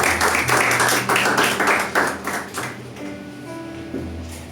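Congregation at a Sunday church service clapping in a brief burst that fades after a few seconds, leaving organ-like music tones.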